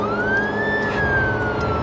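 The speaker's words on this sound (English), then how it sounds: "this comes with siren and it's" A police car siren from the Los Angeles circuit of the racing game Midnight Club 2 wails in a single loud, rising and falling sweep over steady engine rumble, with no talking.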